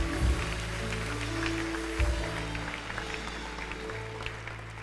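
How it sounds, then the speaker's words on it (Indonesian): A church congregation at a connect group night claps and cheers in praise, a moderate wash of applause over sustained music tones, with a couple of louder bursts near the start and middle. "Berikan tepuk tangan sorak-sorai kemenangan bagi Yesus."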